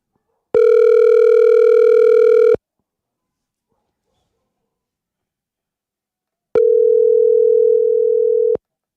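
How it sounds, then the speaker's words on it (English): An unanswered phone call gives two long, loud, steady electronic tones separated by about four seconds of silence, heard alone without any voices. "She's not answering the phone."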